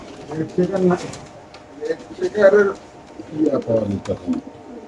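Pigeons, including red checker pigeons at a pigeon farm, coo softly in the background while someone talks over them almost continuously.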